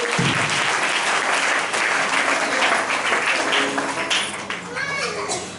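Church congregation applauding during a Hindi worship service, a loud sustained burst of many hands clapping that tapers off toward the end.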